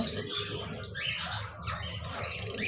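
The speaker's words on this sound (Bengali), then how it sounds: "এখানে দেখতে পাচ্ছেন একজোড়া লুটিনো অফলাইন লাভবার্ড পাখি রয়েছে" A pair of lutino lovebirds in a cage chirps steadily with bright, overlapping tweets and short calls, close and fairly loud, with no talking.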